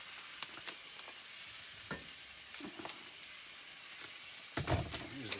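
Meat sears in a pan with a faint, steady sizzle, broken by a few soft clicks and scrapes from handling and a louder clatter near the end.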